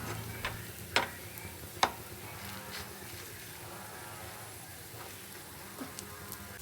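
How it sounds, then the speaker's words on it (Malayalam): Roti cooking on a pan with coconut oil gives a low, steady sizzle, with a few sharp taps and clinks from turning it. No one speaks. "പിന്നെ തിരിച്ചും മറിച്ചും കുറേശ്ശെ കുറേശ്ശെ വെളിച്ചെണ്ണ ഒഴിച്ചു കൊടുത്തും വേവിച്ചെടുക്കാം"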